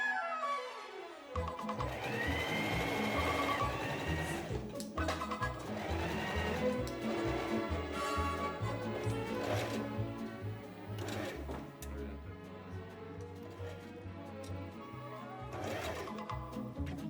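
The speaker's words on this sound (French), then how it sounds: "Nous allons piquer tout autour en laissant une ouverture sur l'un des côtés de la doublure." A sewing machine stitches around the lining of a zippered pouch, running in close bursts with short pauses between runs.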